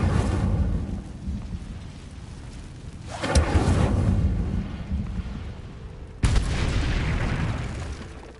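An Incendio fire spell is cast in a Hogwarts video game: two loud, roaring bursts erupt over a low rumbling background, the second hitting abruptly and then slowly dying away.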